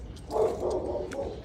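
Dogs bark somewhere outside a renovated school building, a few moderately loud woofs rising over steady background rumble, not very close.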